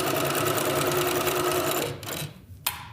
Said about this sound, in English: Put your foot down, sew a couple stitches, and back stitch to secure.